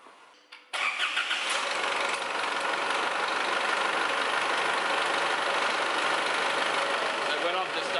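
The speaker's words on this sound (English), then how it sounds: "So now I can start the engine and I'll recheck that oil level." An Isuzu MU-X engine, freshly serviced with new oil, cranks and fires up, then holds a steady idle heard from close by.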